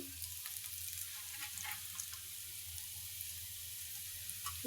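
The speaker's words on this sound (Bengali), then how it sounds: "মাছগুলো ভেজে নিই" Hilsa fish fry in a pan with a faint, steady sizzle and soft crackling spits, quiet background hum, and a brief clatter at the end.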